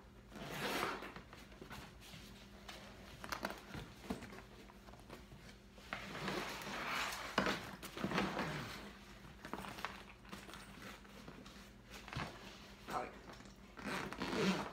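A zipper is worked around a soft luggage bag in repeated short rasping pulls, close and fairly quiet, mixed with fabric rustling and handling noises, with no one speaking.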